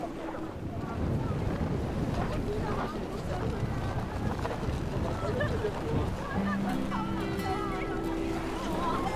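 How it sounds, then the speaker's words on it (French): Strong, cold wind buffeting the microphone at the Aletsch glacier in the Swiss Alps, loud continuous roaring gusts throughout, with people talking underneath. "C'est venteux. Très venteux."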